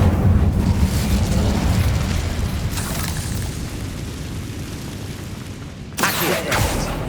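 In the video game Hogwarts Legacy, an Incendio fire spell roars as a dense, continuous whooshing rumble that gradually fades, then a sharp burst flares up near the end.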